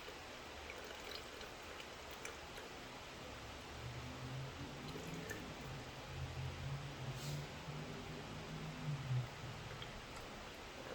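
Water poured into a fly magnet trap, a steady soft gurgling, splashing stream close by, lasting throughout with no talk.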